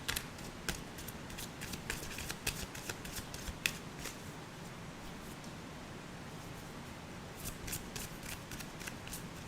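Tarot cards being shuffled, a steady soft riffle of flicking card edges with repeated sharper snaps, close and quiet against a faint hiss.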